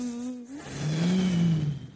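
A buzzing bee drones with a wavering, rising and falling hum over about two seconds, sounding close and fairly loud, apparently imitated by a human voice.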